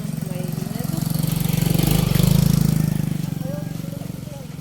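A motorcycle engine idles nearby with a steady low putter that swells and fades slightly, while people talk faintly in the background at a fiesta in Maninila, Albay.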